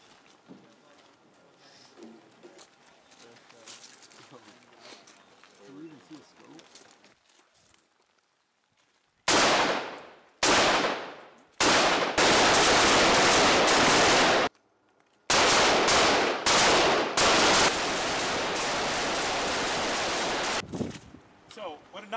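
Loud gunfire at a military live fire range during Exercise Cold Response 22, several sharp bursts and longer sustained volleys close by after a quieter opening with distant voices.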